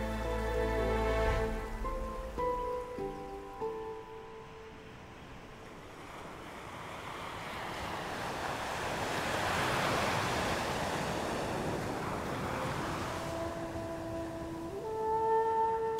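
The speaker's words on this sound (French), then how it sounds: "La côte sud du Sri Lanka, baignée par les vagues de l'océan Indien" Indian Ocean surf along Sri Lanka's south coast: a broad, steady wash of breaking waves, with music rising at the start and again near the end.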